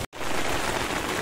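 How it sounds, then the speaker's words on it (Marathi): Heavy rain drums steadily on tents at a hillside camp in the mountains near Dharamshala, Himachal Pradesh, a dense, continuous downpour close overhead after a brief silent gap at the start. "मोठ्या प्रमाणात पाऊस येत आहे."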